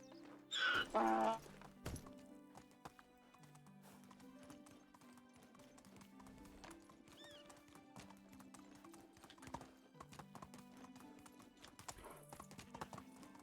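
Horse hooves gallop with a steady clip-clop rhythm in the medieval village-building game Medieval Dynasty, with a brief loud whinny near the start and music underneath.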